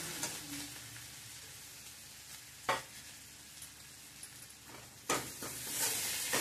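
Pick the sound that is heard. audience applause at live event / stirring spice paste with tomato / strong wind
stirring spice paste with tomato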